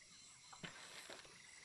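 Frogs croaking in the jungle of the video game Shadow of the Tomb Raider, a few soft, brief croaks over a steady ambient background hiss.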